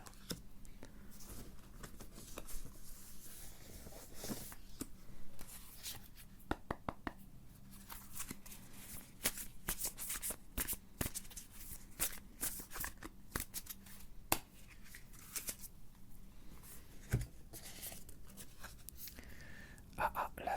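Cartomancy cards being shuffled and drawn, with quick papery riffles, slides and soft flicks of the cards handled close to the microphone at a quiet, intimate level, alongside faint murmured speech.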